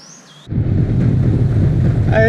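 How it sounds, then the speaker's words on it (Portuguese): A jet ski runs on the water on its first outing, a loud steady engine rumble that begins abruptly and continues without letup, with wind buffeting the microphone. "o jet tá funcionando"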